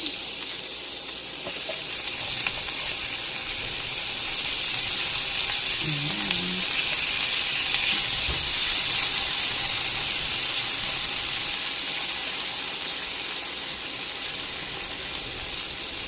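Onions sizzle and crackle in a hot frying pan with a steady, close hiss that carries on throughout, with a brief clatter of a utensil partway through.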